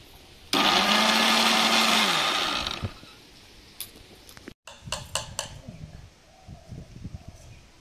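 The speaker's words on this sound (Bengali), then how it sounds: "এবারে কি মিক্সচার মেশিনে পেস্ট করে নিচ্ছি" A kitchen mixer blender grinds watermelon flesh into paste, a loud close motor whine running about two seconds before spinning down, followed by clinks and handling of the jar and lid.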